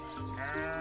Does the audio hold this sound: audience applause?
no